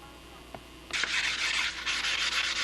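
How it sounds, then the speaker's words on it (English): A sanding block rubs along the edges of small model Spitfire aeroplane parts, a soft tap followed by a steady hissing scrape with brief strokes repeating up close. "I'm being very careful to at least touch all the edges with a sanding block"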